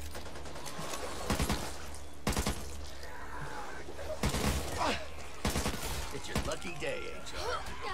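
Gunfire in the co-op zombie shooter Back 4 Blood comes in several short sharp bursts spaced a second or two apart, mixed with game effects and player voices at moderate volume.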